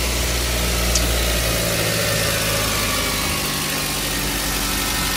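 A Toyota Avanza engine idles right after starting, with a loud, steady, close rumble and a constant low drone. The engine has strange noises and ignition leakage.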